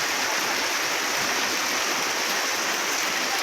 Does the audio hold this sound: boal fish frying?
no